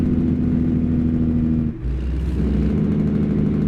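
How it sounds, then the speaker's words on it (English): Engine drone of a Kenworth W900 Anniversary truck in American Truck Simulator, a steady low throbbing rumble that briefly drops out, then returns with a rapid, pulsing Jake brake chatter, loud and close. "I love that Jake brake sound."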